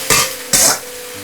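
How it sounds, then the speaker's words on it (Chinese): Winter melon stir-fried in a wok over low heat: two loud scraping tosses of the spatula with sizzling bursts, separated by a brief quieter gap. "全程小火反复翻炒焖煮"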